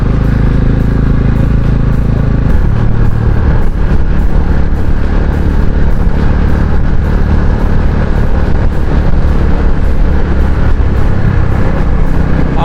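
Bristol BR 400i Omega motorcycle riding and pulling through first, second and third gear, a loud continuous engine drone with wind rush, pitch shifting as it changes gear early on, then a steady roar.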